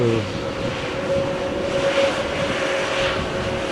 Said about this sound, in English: Here we see a Wizz flight from Malaga to